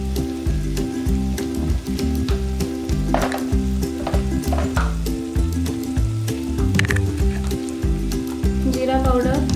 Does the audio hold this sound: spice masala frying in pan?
yes